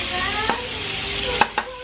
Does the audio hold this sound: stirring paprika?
yes